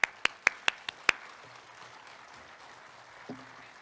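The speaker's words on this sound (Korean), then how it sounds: "우리 유대열 목사님 나오시면 우리 크게 한번 환영 박수 한번 하겠습니다" Six sharp, evenly spaced hand claps ring out in a church service as a pastor is welcomed, then fade to quiet room tone with a faint low sound near the end.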